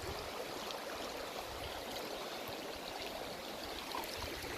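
River water rushing along the East Fork of the San Gabriel River, a steady, broad hiss of flowing current, close and constant with no voices.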